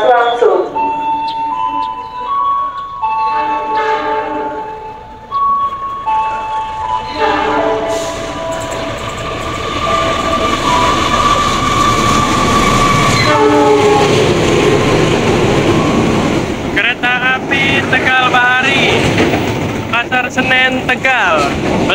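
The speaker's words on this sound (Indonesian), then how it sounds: "Jalur 2 dari arah barat kereta api melintas langsung." A mixed economy and executive train runs straight through Tambun station without stopping. Its horn blares in long tones and the heavy roll of the cars follows, loud and near, after a station announcement and talk.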